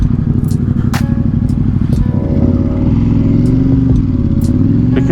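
Ducati XDiavel motorcycle fitted with a Termignoni exhaust, heard while riding in hot traffic: a steady, loud low engine rumble throughout, with shifting pitch as it accelerates and a few clicks and clatter on top.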